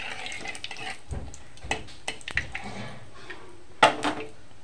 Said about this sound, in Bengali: পাঁচফোড়ন দিয়ে দিলাম, নাড়াচাড়া করে নেব।